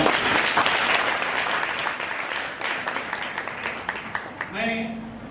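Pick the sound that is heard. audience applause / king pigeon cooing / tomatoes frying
audience applause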